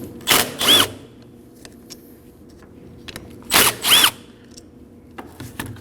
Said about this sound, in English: Go ahead and use a 14mm socket and remove the two bolts.